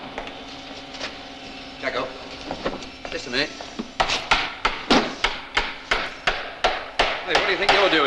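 Repeated mallet or hammer blows on a chisel cutting a mortise in wood, in a workshop setting; about a dozen sharp, evenly spaced knocks from about four seconds on, preceded by background talk and shuffling.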